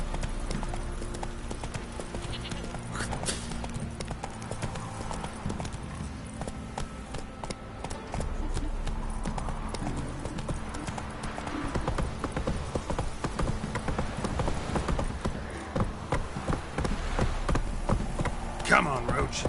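Roach the horse galloping in The Witcher video game, rapid rhythmic hoofbeats pounding continuously, close and fairly loud, with a voice speaking over them.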